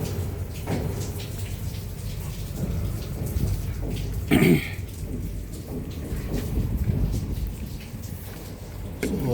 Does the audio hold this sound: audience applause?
no